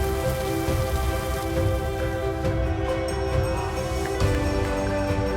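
Light drizzling rain patters steadily on a surface, soft and continuous, mixed with a gentle sustained musical tone throughout.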